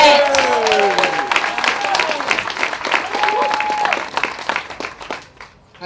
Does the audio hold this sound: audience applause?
yes